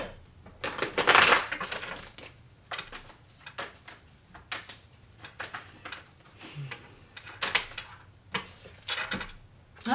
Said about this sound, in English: I'll shuffle and see if there's anything more.